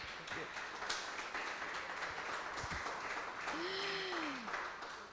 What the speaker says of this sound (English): Please welcome with an applause to Annette Wolfsberger